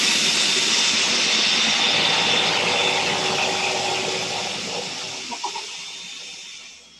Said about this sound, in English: I just added about 2 tablespoons of olive oil into the blender, and I'm just gonna just go at it